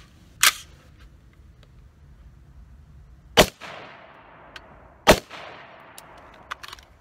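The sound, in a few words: green tip and standard 5.56 rifle shots hitting steel body armor plate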